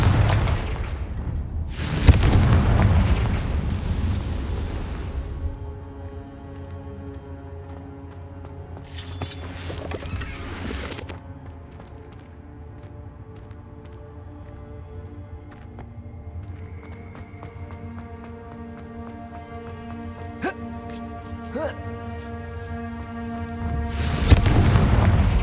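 Confringo spell explosions in the video game Hogwarts Legacy, several loud booming blasts spaced apart, with ringing tonal magic effects lingering between them and a final blast at the end.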